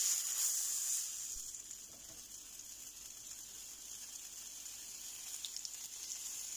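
Ground beef hamburger patty frying in a pan for a homemade burger, giving a soft, steady sizzling hiss that runs evenly throughout, a little louder at the very start, with no talk over it.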